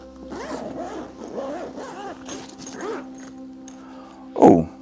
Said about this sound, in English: So it's got another zipper here.